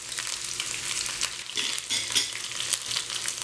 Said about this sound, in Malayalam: അടുത്തായിട്ട് വറ്റൽ മുളക് ഇട്ട് കൊടുക്കുക.